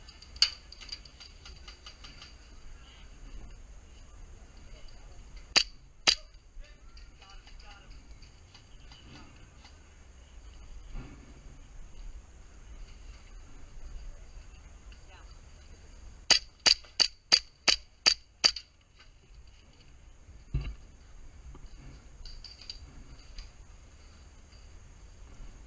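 Airsoft guns fire sharp, faint snapping shots during a game, a couple early on and then a quick burst of about six, set against quiet background ambience.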